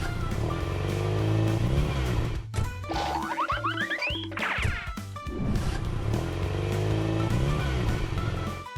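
Taxi driving in a children's video game, with a steady synthetic engine hum under bouncy game music and a brief burst of cartoonish sliding and boinging effects midway, loud and close.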